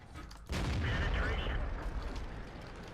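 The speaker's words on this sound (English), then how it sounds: "And then killed by artillery" Artillery fire in World of Tanks slams into a tank as one sudden loud blast, then a rumbling roar fades slowly over the following seconds.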